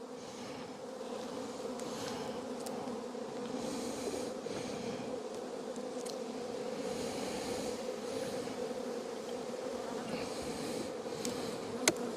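Honey bees in an open colony hum in a steady, continuous buzz close by, with faint clicks and knocks over the drone.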